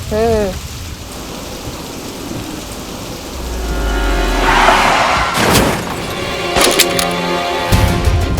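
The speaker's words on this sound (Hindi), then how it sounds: "अरे वाह, बारिश।" Rain patters steadily with a low rumble building midway, then sharp clattering bursts; a short voice is heard at the start.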